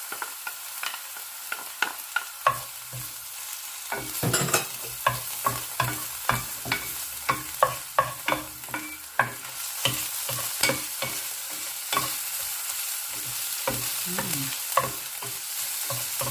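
Garlic fries in a hot pan with a constant sizzle while a utensil stirs it, giving regular scraping knocks against the pan, close and clear.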